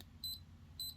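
An Adafruit hardware board sounds two short, thin, high-pitched electronic beeps about half a second apart, faint and alone against a quiet background hum.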